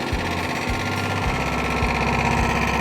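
A wood chipper's small engine runs at a steady idle, with a loud close throb and low pulsing beats repeating throughout.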